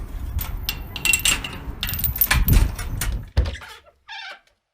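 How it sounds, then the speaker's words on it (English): A door releases and opens in a video game, with clanking mechanical thuds and scraping over a few seconds, then a short squeaky mechanism sound before silence. "Doors release."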